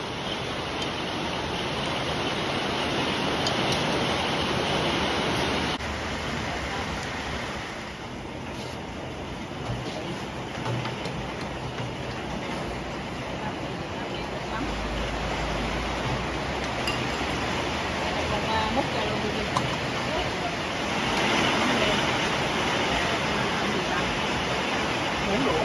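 Heavy rain pours steadily and loudly throughout, a dense continuous wash during an outdoor meal of grilled beef wrapped in betel leaves, with a voice speaking intermittently over it.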